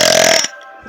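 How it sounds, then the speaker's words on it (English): One loud, rasping burp, close and forceful, lasts under half a second and then cuts off into near silence. "how you burp like that?"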